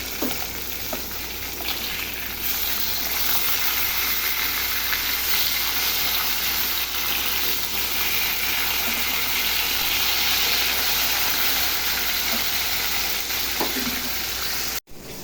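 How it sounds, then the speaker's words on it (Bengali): Rohu fish frying in a pan, a dense, steady sizzle and crackle of hot oil that stays loud and close for the whole stretch, with a brief knock near the end and no talking. "মাছ ভাজি হতে থাক"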